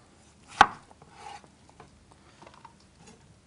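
A single sharp knife chop onto a board, followed by a few softer scraping and cutting sounds while cutting vegetables for pickles and chutney, close and quiet with no talking.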